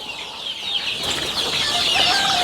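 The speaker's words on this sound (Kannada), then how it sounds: "ನಾಟಿ ಕೋಳಿ" Native country chickens on a poultry farm cluck and call in a busy flock, with some wing flapping and rustling, and the sounds grow steadily louder and denser.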